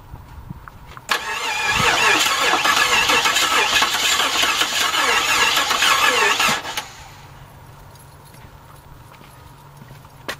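An old Volkswagen engine, primed with starter fluid poured into the carburetor, cranks and fires into a loud, rough mid-pitched run for about six seconds before cutting out, with no talk over it.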